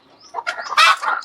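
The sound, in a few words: chickens clucking at a country chicken farm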